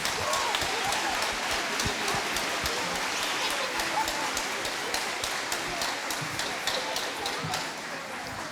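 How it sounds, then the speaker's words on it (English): An audience at a school celebration event gives a long, steady round of applause, a continuous crackling wash of many hands with sharper individual claps poking through, tapering slightly at the end. "Let's give them another big round of applause."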